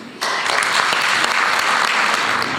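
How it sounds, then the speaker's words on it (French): An audience applauds loudly and steadily for a few seconds at a historical society's 40th-anniversary event, a dense, close burst of clapping. "une bonne main d'applaudissement leur serait nécessaire"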